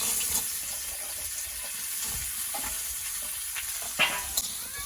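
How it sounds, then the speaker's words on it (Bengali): Drumstick (moringa) pods fry in oil with a steady, hissing sizzle throughout, close by, with a couple of brief clinks near the end. "তো এখন আমি সজনেগুলো ভেজে নেব।"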